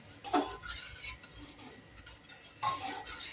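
Cooked dal lentils being stirred in a pot, with a few soft scraping strokes and light metallic clinks from the spoon, quiet and close, with no talk.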